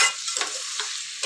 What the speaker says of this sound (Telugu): ఒక 5 మినిట్స్ మనం ఇది మంచిగా ఫ్రై చేసుకుందాం ఆయిల్లో.